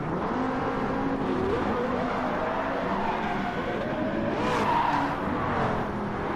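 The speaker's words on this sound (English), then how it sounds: "A Diablo, a Ferrari, and a Lamborghini Murcielago are going to duke it out for second place" A Lamborghini Diablo, a Ferrari and a Lamborghini Murcielago race in the Need for Speed video game: a continuous loud engine roar with shifting revving pitches and tire squeal, dense and unbroken throughout.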